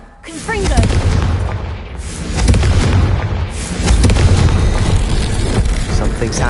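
The Confringo fire spell exploding in the Hogwarts Legacy video game, a series of booming blasts with crackling bursts, loud and layered over a busy game soundtrack.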